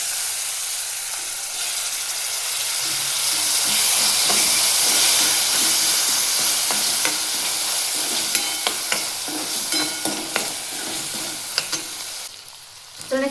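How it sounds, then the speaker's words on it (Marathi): Soaked chana dal fries in hot tempering oil with turmeric, a loud, steady sizzle and hiss, later broken by scattered clicks and scrapes of stirring before the sizzle dies down near the end. "चण्याची डाळ आपण छान 1-2 मिनिटं परतून घेऊया"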